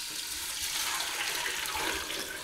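Broth from cooked blue jellyfish, seasoned with lemon juice, is poured back into a pan, making a steady, close splashing stream of liquid that runs without a break and with no talking.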